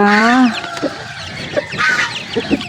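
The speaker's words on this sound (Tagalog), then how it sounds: "Ito na yung mga sisiw eh." Young chicks in a roomy backyard coop, a loud close cluck or squawk at the start followed by soft scattered peeps and clucks, with no talk.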